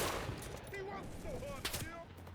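Gunfire in the World War II shooter game Enlisted: a steady wash of distant rapid shots and automatic weapon bursts under game noise, with no voices heard.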